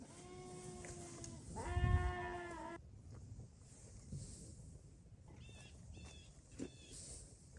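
Sheep, rams and lambs bleat at evening feeding time on a farm, with several loud, wavering bleats near the start and shorter calls later over quiet barnyard ambience.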